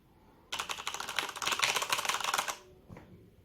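Fast, dense typing on a Corsair K95 RGB Platinum mechanical keyboard, a rapid clatter of key clicks lasting about two seconds, close and clear, followed by a single faint tap.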